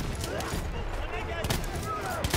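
A shotgun fires in the World War One shooter Battlefield 1 on the Cape Helles battlefield. A couple of sharp, punchy blasts come through dense battle noise, with a voice murmuring in the mix.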